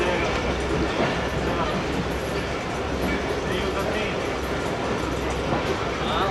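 Karakoram Express train running along main line 1 between Lahore and Khanewal, a steady loud rumble with rail noise throughout, heard from on board, with voices mixed in.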